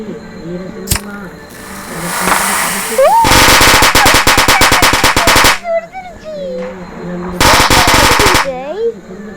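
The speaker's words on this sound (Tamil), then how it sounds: "சரவெடி மாதிரி இருக்குல்ல" A string of firecrackers explodes in two long bursts of rapid, loud cracks. Voices and whistling tones can be heard between the bursts.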